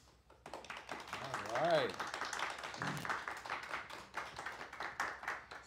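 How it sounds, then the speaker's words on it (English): Applause and clapping from an audience, a dense patter of hands lasting several seconds, with a voice speaking briefly over it. "Let's hear some applause."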